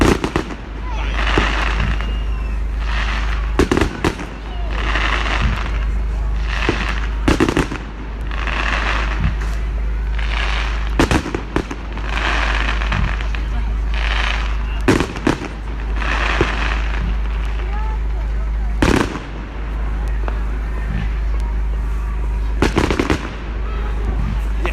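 Fireworks at a Bonfire Night display at Manor Fields boom in a series of loud, sharp bangs spaced several seconds apart over about twenty-five seconds, with crackling bursts between them and a crowd murmuring underneath.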